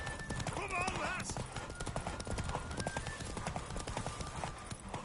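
Horse hooves clip-clop in a steady galloping rhythm in The Witcher 3, close and prominent throughout, with a neigh or whinny early on and character voices speaking over the hoofbeats.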